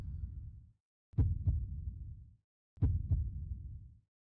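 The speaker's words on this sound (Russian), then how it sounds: "И опять это сердцебиение." A heartbeat sound effect plays during a concert performance: deep, booming double thumps repeat in two slow, evenly spaced beats, loud and close with silence between them.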